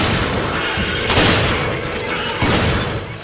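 Bombs exploding in Resident Evil 5, two heavy booming blasts about a second apart over ongoing gunfire and game noise, loud and close.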